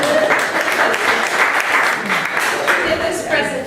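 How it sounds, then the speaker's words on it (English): A live audience at a startup pitch gathering gives a round of applause for a new employee, a brief burst of clapping with some voices mixed in over roughly four seconds. "so we can give her a round of applause"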